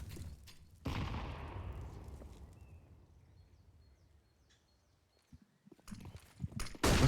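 In a Counter-Strike match from the ESL Pro League, a sharp grenade blast lands and its rumble fades over several seconds, followed after a lull by a quick cluster of loud gunshots.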